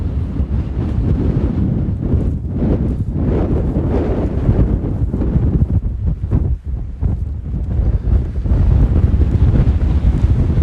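Strong 50 mph storm wind roars and buffets the microphone without pause at a wild campsite. The gusts rise and fall in a loud, dense rush with no voices.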